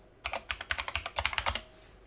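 A rapid run of about twenty close, crisp keystrokes on a computer keyboard as a password is typed at a Windows Server 2022 login screen, clicking in an uneven quick rhythm before stopping abruptly.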